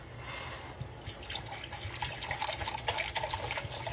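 Water and white vinegar poured from a 2-cup measure for a pickled beet brine, a steady close splashing trickle that runs throughout without any talk.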